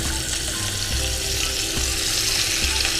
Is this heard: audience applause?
no